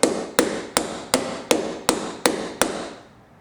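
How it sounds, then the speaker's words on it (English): Eight sharp hammer blows driving a part into a door lock during installation, struck at a steady even rhythm about a third of a second apart, close and loud with short ringing decays, no talk. "And hammer it in."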